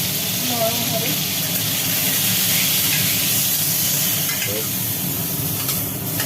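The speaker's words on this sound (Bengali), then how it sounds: "পটলগুলো এবার ভাজি করা হবে" Pieces of lightly salted pointed gourd (potol) fry in hot oil, a loud, continuous sizzle and crackle with occasional scraping as they are stirred in the pan.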